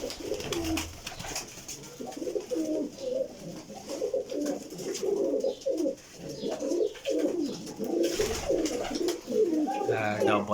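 Pigeons in a loft of high-flying parwazi birds coo repeatedly and steadily, a dense stream of throaty calls from several birds close by, with a voice briefly heard among them.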